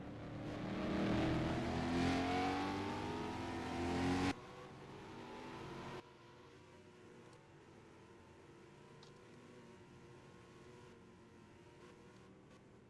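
Race car engine in a racing video game driving a lap, a loud revving drone with rising and falling pitch that suddenly drops to a quieter, steadier hum partway through.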